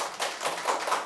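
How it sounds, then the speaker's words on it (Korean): An audience claps at a Korean lecture show, a quick scattered patter of hands at moderate distance, steady for about a second with no speech over it. "여러분 박수 한번 칠까요"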